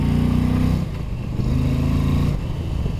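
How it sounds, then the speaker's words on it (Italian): Exhaust of an Indian Challenger motorcycle, a luxury American bagger, rumbling steadily at close range with a deep, even throb and a slight dip in pitch partway through, with no talking. "La voce allo scarico è bella,"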